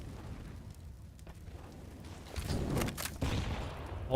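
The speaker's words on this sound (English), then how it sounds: "Nade's going into this B lobby position." Grenade blast during a Counter-Strike match on the Vertigo map, a muffled boom with rumbling crackle rising in the latter half amid ongoing in-game noise, fairly distant and moderate in level.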